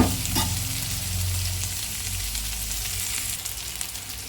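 Frying in a pan for hotel-style dal fry gives a loud, continuous close sizzle with stirring throughout, a brief sharp scrape near the start, and no talk.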